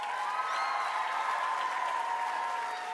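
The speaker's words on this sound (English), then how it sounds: "give a big round of applause for Sarah," Studio audience applause for game show contestants lined up on a giant bouncy Twister board, a steady, loud wash of clapping with some cheering tones riding over it throughout.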